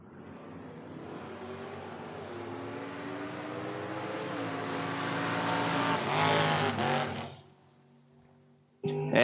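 A Corvette and a Mustang drag racing down the strip at a bracket race, engines roaring and climbing in pitch as they pass close, then fading before another loud burst at the end.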